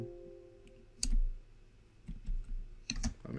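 Keys tapped on a computer keyboard while entering a command, a few sparse, soft clicks close by with a quiet hum underneath, no talking.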